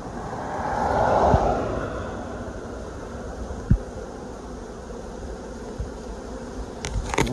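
A large swarm of bees hums as a low, steady buzz, fairly close, with a few knocks and bumps breaking through and no talking.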